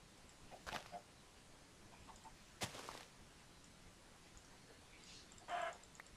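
A video game chicken clucks in short, separate bursts, three or so spaced a couple of seconds apart, over a faint, quiet background.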